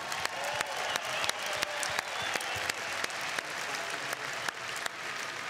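An audience claps in sustained, even applause, a dense stream of many hands heard continuously at moderate loudness.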